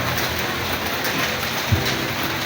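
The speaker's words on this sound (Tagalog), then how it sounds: "Ay, ulan." Steady rain hisses outdoors at a restaurant in Antipolo City, a dense, even wash of falling drops with one brief low thump partway through and no voices.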